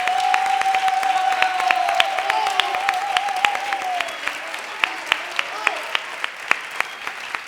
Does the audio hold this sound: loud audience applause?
yes